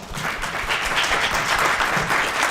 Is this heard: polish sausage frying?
no